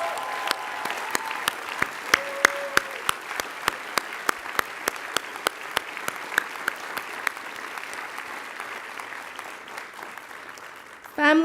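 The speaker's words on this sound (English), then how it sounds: "Let's give them a round of applause." A college commencement crowd claps steadily in applause for graduates, a dense patter of hands at moderate distance that keeps going and then fades out.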